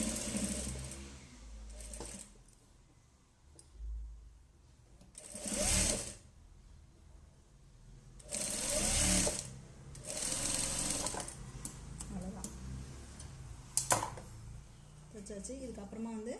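A sewing machine stitches a blouse in short bursts of rapid mechanical chatter, separated by quiet pauses, while someone speaks in Tamil between and over the runs.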